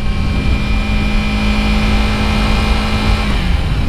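A motorcycle engine drones and rises as the throttle opens, the steady loud mid-pitched note running throughout with no talk.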